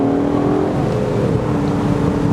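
A 2020 Aston Martin DBS Superleggera Volante's engine roars loudly and steadily under hard acceleration, a dense close-up drone with a pitch that climbs and shifts, with no talking over it.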